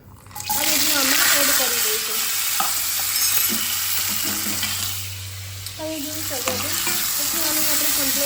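Hot oil sizzles loudly and continuously as spices temper in the pan, with brief clinks and stirring sounds; a faint voice is heard at times.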